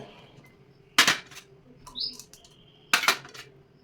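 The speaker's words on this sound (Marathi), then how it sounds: "भांड्यामध्ये सर्व भाज्या घालून घ्यायच्या" Vegetables are dropped into a cooking pot in two sharp, clattering bursts about two seconds apart, with a brief faint chirp between them and no talk.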